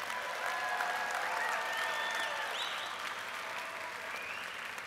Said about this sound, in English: Give President Obama a big round of applause.